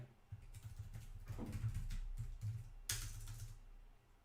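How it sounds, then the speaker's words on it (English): Short bursts of computer keyboard typing click along at a modest level, with uneven clusters of keystrokes and brief pauses, sitting over a low steady room hum with no speech. "I have this keyboard way over here to the side."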